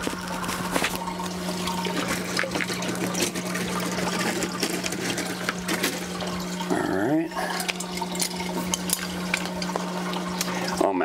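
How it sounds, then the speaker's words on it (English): Water flows steadily through the tubing of a hydroponic drip system on a recirculating deep water culture setup, a continuous hiss and gurgle with a brief bubbling surge partway through, while a low hum runs underneath. "You don't need to have the water shooting out like a jet."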